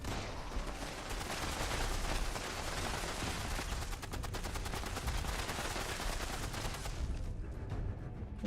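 Rapid automatic gunfire in the Fallout video game rattles as fast, steady bursts of shots, fairly distant and quiet, with a dense run of repeated cracks before it cuts off near the end.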